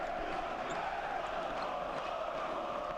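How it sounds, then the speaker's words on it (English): Crowd noise in a basketball arena during a Galatasaray NEF versus PAOK mateco Basketball Champions League game, a dense, steady roar of many voices with faint cheering, continuous and without clear individual speech. "you can hear the crowd"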